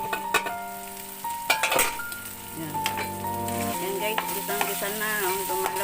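Ground pork sautéing in a pan for ginisang upo with pork giniling: close, steady sizzling and frying with repeated stirring scrapes and occasional utensil clinks, over a faint tonal background.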